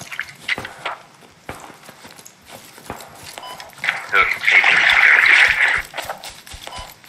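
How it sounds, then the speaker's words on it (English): Water splashing in a military shooter game, a burst of sloshing, splattery noise in the middle of the clip among scattered footstep-like clicks and thuds, with voices talking in between. "I heard water. I heard water."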